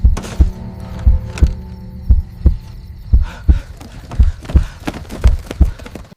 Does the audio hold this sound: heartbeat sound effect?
yes